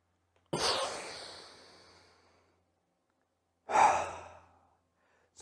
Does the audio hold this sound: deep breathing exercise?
yes